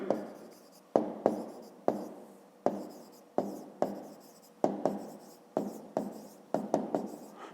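Writing by hand on paper while working a fifth-grade maths exercise, a run of short close pen strokes and taps coming in quick repeated bursts, quiet otherwise.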